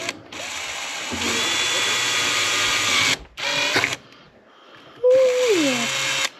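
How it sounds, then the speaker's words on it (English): A power drill bores a hole in a part of an Element RC Gatekeeper car, three loud whirring bursts with the motor pitch shifting as it bites and a short quiet gap between them. "let's get a hole drilled in here."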